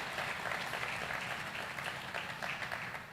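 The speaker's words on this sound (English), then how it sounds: "give yourself another round of applause for making a good choice" Sustained applause from an audience at a university student orientation, a steady dense wash of clapping at even loudness with no talk over it.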